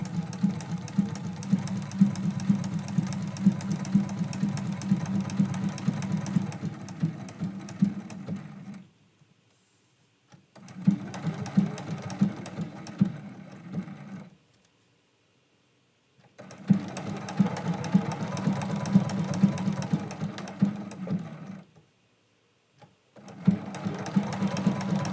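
A sewing machine stitches a Christmas quilt block, running in four long steady bursts of fast, even stitching with short pauses between them, close and clear.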